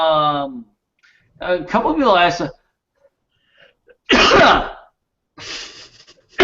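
A single sharp sneeze bursts out loud and close around the middle, set between stretches of someone talking before and after.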